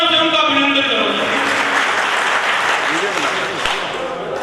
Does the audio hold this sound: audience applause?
yes